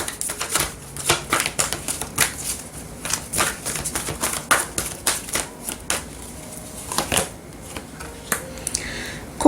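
Oracle cards shuffled by hand: a steady run of quick, crisp papery clicks and flutters, close and fairly quiet, continuing throughout with no talking.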